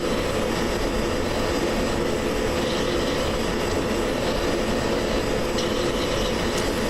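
F-16 jet engine on final approach in a flight simulator game, a constant loud broadband roar with a steady whine and no breaks, no voices.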